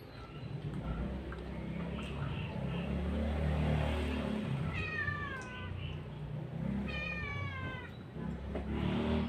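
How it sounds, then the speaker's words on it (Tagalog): Several cats meow in close succession over a steady low background rumble, with two clear drawn-out meows standing out near the middle and end during a breakfast scene. "Kawan naman itong mga pusa."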